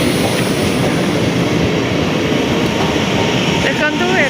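A train at a station, a loud continuous rumble and clatter of rolling wagons close by, with faint squeals near the end.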